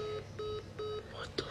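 Telephone in a comedy skit giving three evenly spaced electronic tone pulses, fairly quiet and close, followed by a brief higher chirp and a soft knock.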